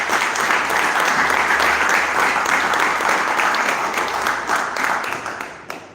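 Audience applause after a speech at a metropolitan planning conference in Campana, Buenos Aires: a full round of clapping from a seated crowd, steady for several seconds and then thinning out at the end.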